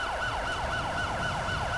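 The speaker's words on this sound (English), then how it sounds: "Here comes the ambulance." A wailing ambulance siren from the video game GTA 5 sweeps up and down in a steady repeating cycle, loud and continuous with no talk over it.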